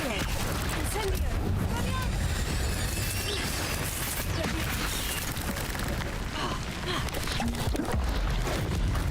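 Incendio fire spell cast in Hogwarts Legacy combat: continuous loud, dense crackling bursts and whooshes of magic and impacts filling the whole stretch, with game speech and a player's voice mixed underneath.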